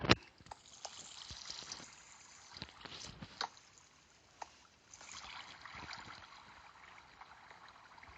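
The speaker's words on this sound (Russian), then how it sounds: "Там вода." Water flows and trickles softly in a Minecraft survival world, a faint steady splashing with a few sharper clicks near the start.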